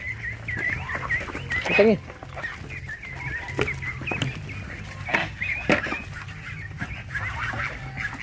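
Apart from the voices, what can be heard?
geese and ducks on a farm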